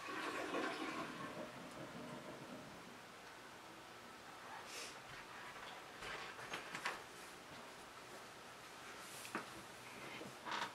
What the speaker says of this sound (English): I flushed him down the toilet.